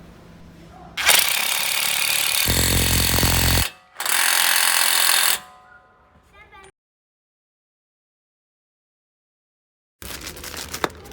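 A power tool rattles hard on suspension nuts and bolts in two loud, close bursts separated by a short pause, then quiet mechanical clicks and a long silence before a brief noisy return.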